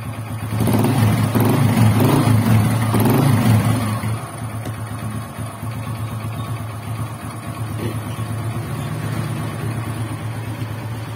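A freshly reassembled Honda XRM125 motorcycle engine, repaired after excessive engine noise, revs loudly up close for a few seconds, then drops to a steady, quieter idle.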